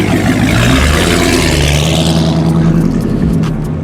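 A 1000-horsepower Dodge Hellcat pulls out and accelerates, its loud engine roar rising and building steadily over a few seconds, close by.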